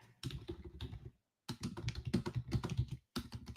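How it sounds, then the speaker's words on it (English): Rapid clicking keystrokes on a computer keyboard come in three bursts separated by short pauses, close and fairly quiet, without any talk. "So here, I'm going to type in our chat."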